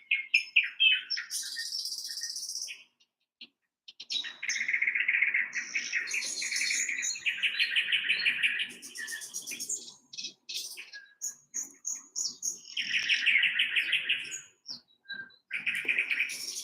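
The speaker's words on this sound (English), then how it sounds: "I think them little birds hear the birds through the air conditioner." Small birds chirp and twitter in rapid, high-pitched bursts, several calling close together with short pauses between flurries.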